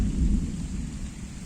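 Heavy rain with rumbling thunder pours down over a lakeside carp fishing session, a steady loud wash of falling water with deep low rolling booms throughout, no voices.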